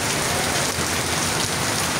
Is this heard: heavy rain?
yes